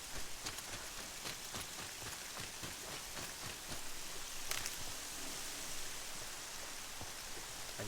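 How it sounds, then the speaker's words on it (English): Steady rain in the video game Horizon falls in a dense, even hiss with scattered droplet ticks, continuous and fairly soft with no voices. "Rain effects look dope."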